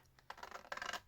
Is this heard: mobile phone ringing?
no